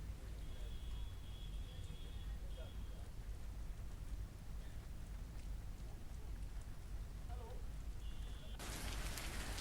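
Heavy first-of-season monsoon rain falls in Tonk district, Rajasthan, as a dense, steady hiss of downpour that continues unbroken throughout.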